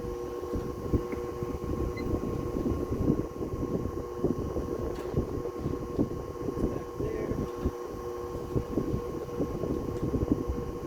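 A Westinghouse PowerAire 'Darth Vader' 10-inch oscillating desk fan runs steadily, a constant motor hum and airy whoosh with a faint rattle, needing oil, heard close and alone.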